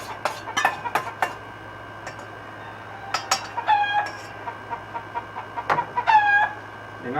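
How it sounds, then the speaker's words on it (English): Chickens clucking and squawking excitedly nearby in a farmyard, with a rooster's crow-like calls, in short irregular bursts over a steady low hum. "And I hear the chickens"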